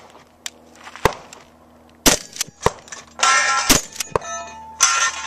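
Gunshots ringing off steel targets at a 3-gun match, sharp loud cracks followed by metallic clangs, spaced irregularly with bursts of outdoor noise between them.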